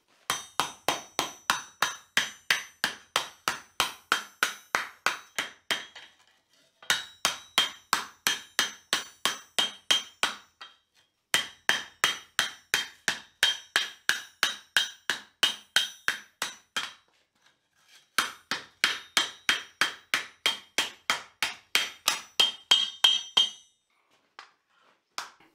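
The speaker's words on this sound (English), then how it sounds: "Then I'll start shaping this over the bottom of an old oxygen cylinder." Hot steel for a fireplace shovel is hammered over the bottom of an old oxygen cylinder used as a forming swage. Close, ringing blows fall in quick, even runs, broken into four bursts by short pauses, with no talking.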